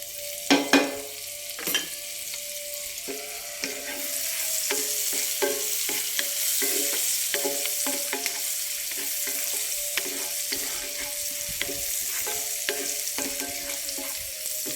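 Curry leaves and finely chopped green chilies crackle and sizzle in hot oil in a pan, a steady close frying hiss broken by regular scraping stirs and a few louder pops near the start.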